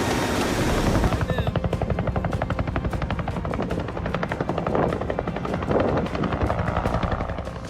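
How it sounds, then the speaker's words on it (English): Bell 407 or Robinson R-44 helicopter flying low during an aerial wild hog hunt over Texas fields, its loud, steady rotor chop pulsing rapidly and continuously throughout with engine whine underneath. "The primary aircraft used were helicopters, especially the famous Bell 407 and Robinson R-44"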